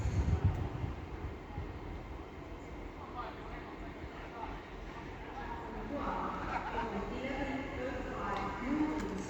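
An LNER Class 801 train, unit 801114, departing Doncaster station on the East Coast Main Line: a low rumble and rhythmic wheel clatter at moderate distance that builds slowly, with a public-address voice over it.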